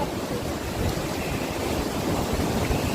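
Steady, loud rushing water fills the clip, a broad continuous roar of a strong, fast-flowing river current close by at Ambon-Ambon Falls in Pangil, Laguna, with no voices.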